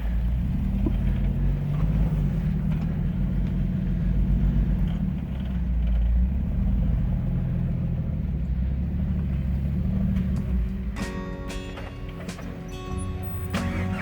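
Manual-transmission Jeep crawling an off-road trail, a steady low engine rumble with tyre and chassis noise, then sharper clanking and rattling near the end.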